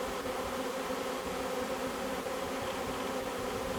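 Honeybees buzz in a dense, continuous drone around super hives in the mood to swarm, a steady close hum with no voices.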